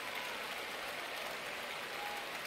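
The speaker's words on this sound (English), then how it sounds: "I just make people clap forever." Sustained crowd applause from an athletics video game set at an indoor championship, a dense even wash of clapping that runs unbroken and fairly quiet throughout, with no voices.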